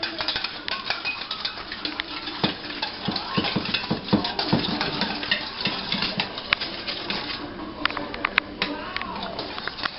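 Pizza dough mixture being mixed with lukewarm water in a bowl, producing steady, close, busy scraping and clinking strokes with wet squelches, loud and continuous throughout.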